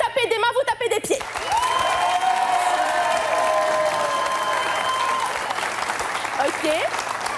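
A studio audience clapping hands and stomping feet for an applause meter bursts into loud, dense applause with cheers after a host speaks, sustained for several seconds before voices return at the end.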